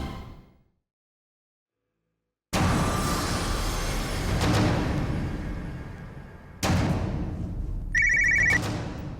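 A phone ringtone chirps in short repeated bursts near the end, after a stretch of silence and a busy room sound with a thud, for an incoming call in a Tamil TV drama home scene.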